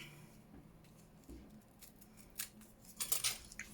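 Faint snips and rustles of scissors cutting a piece off a paper bag for a handmade junk journal notebook, a few soft irregular clicks and paper crinkles in a quiet room.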